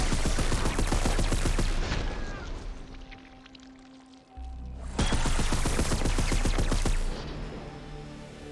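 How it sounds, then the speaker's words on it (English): The Spectre pulse cannon fires in the video game Horizon Forbidden West: two loud volleys of rapid, crackling pulses, one fading out and then a second burst that sustains before tapering off. "Spectre pulse cannon."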